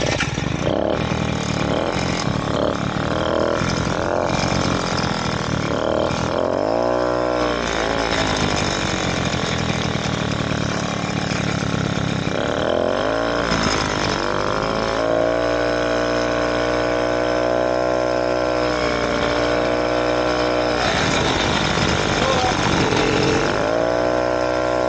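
A 2-stroke bike engine running at high speed, a loud continuous buzzing roar that stays at full volume throughout, rising and falling in pitch as the revs change.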